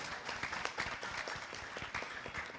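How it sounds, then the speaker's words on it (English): A temple congregation at a Sunday service applauds a newcomer, many hands clapping together in a dense, steady round from a moderate distance. "Give it a wonderful round of applause."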